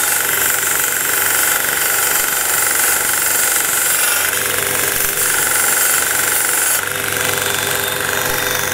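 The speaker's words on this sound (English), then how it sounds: "we'll go over to the belt sander and put a little sharp edge on it" A belt sander grinds a sharp edge onto the end of a wire before threading. It makes a loud, continuous abrasive roar with a steady motor hum throughout, and no one speaks.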